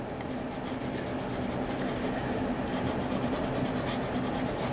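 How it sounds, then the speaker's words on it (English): Steady scratchy rasping of colored pencil shading across paper, close and continuous, with rapid back-and-forth strokes and no talking. "This time I'm adding a little bit more hand pressure with my pencils"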